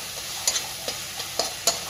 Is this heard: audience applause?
no